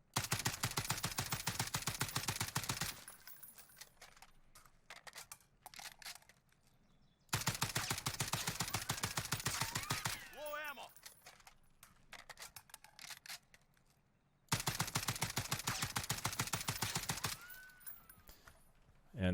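Repeated bursts of automatic fire from an FAL rifle in the Warzone video game, three loud sustained volleys separated by quieter gaps.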